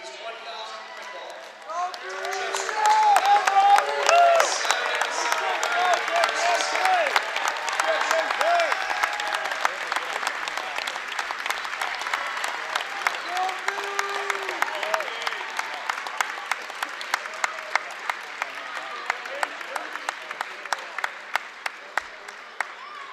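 Sustained crowd applause rises at a men's college basketball game honoring five seniors and a player passing 1,000 points, dense clapping with scattered cheers, then thins into sharper individual claps while an announcer's voice carries over it.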